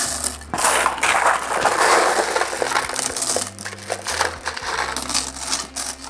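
Fire pit glass pours into a concrete bowl for a tabletop fire feature, giving a continuous loud gritty clattering and crunching of small glass pieces under a low droning hum.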